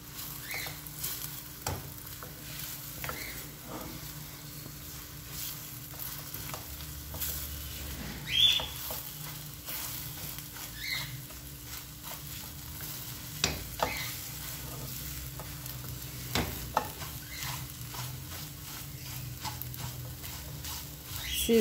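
Eggs fry in a pan with banana da terra for scrambled eggs, giving a steady soft sizzle with occasional scraping stirs and small ticks, fairly quiet and continuous with no talk.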